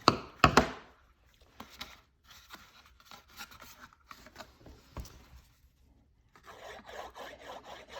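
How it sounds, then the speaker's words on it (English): A bone folder burnishing paper down on a handmade box gives close, dry rubbing and scraping strokes in uneven bursts, loud taps at the start, then quieter repeated scrubbing. "Use my bone folder and burnish it down real good."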